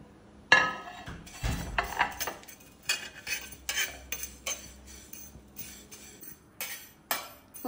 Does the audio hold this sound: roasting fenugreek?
yes